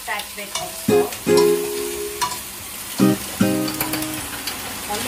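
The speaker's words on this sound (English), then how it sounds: "we're going to raise the heat up and we can stir fry it now" Spineless yucca flowers stir-fried in a hot pan give a steady sizzle, broken by several loud scraping clanks of the utensil against the pan at irregular intervals, close up, with no talking.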